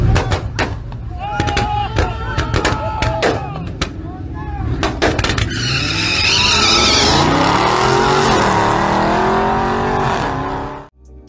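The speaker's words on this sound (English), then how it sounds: "now you will see a turbo beetle totally embarrassing a charger on the drag strip" A turbo Volkswagen Beetle drag races a Charger on a drag strip, with loud engine roar, crackling backfire pops and rising revs, as a close, powerful acceleration fills the sound.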